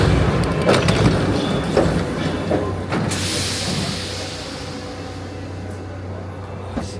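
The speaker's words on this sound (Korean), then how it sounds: "초록색 버튼을 눌러야 문이 열려요" Paris metro train doors open after a green button is pressed, a mechanical clack and slide midway through, set against the steady hum and rumble of the station.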